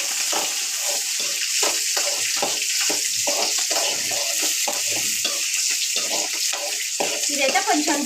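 Peanuts frying in oil and being stirred in a pan while cooking semiya upma, with a steady hiss of sizzling and repeated scraping strokes of the spoon, close and continuous throughout with no talk.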